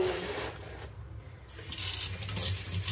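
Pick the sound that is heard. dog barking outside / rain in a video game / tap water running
tap water running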